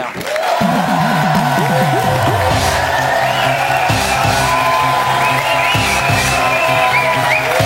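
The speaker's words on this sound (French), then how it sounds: "On applaudit très fort Geoffrey Verquin alias Mister Cocktail" A loud, dense crowd at a nightclub show cheers, whoops and applauds a cocktail performer, with shouted voices rising over continuous clapping throughout.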